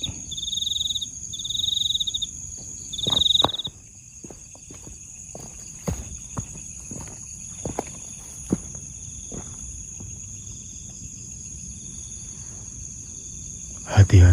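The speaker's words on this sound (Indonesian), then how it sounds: "Krik suara jangkrik." Crickets chirp at night near the Jatibarang reservoir in short bursts at first, then a steady high insect trill carries on over soft rustling and scattered footsteps nearby.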